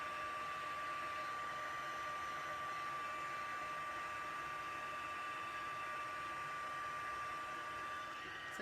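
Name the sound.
heat tool blowing for heat embossing a card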